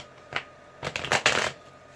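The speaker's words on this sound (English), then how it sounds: "2 more shuffles" A few quick riffle shuffles of a tarot card deck, close and crisp, with short bursts of papery fluttering and brief pauses between them.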